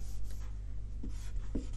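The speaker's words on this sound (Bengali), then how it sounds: "আমি যদি এখানে লিখি খুব ছোট করে" Pen or marker scratching on a surface as someone writes small numbers by hand, quiet strokes over a low steady hum.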